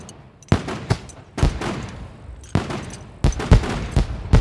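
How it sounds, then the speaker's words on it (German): Firecrackers popping in SCUM, the survival video game: rapid clusters of loud, sharp bangs in several bursts, crackling volleys separated by brief pauses, close and prominent with no talking. "Zünd den Knaller!"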